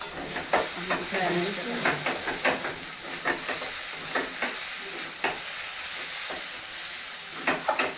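Tarka sizzles and fries in a pan with a steady hiss while a spoon scrapes and stirs in irregular clinks, close and moderately loud.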